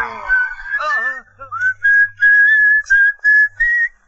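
A person whistles in a comedic zombie film to calm a zombie, producing a clear melodic tune of several sustained notes in short phrases with brief pauses between them.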